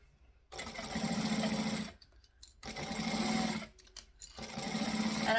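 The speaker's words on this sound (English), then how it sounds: "And I'm stitching 1/8 of an inch from the open edge." A sewing machine stitches a vinyl travel tote in three loud runs of close, fast, rhythmic needle chatter, separated by brief pauses.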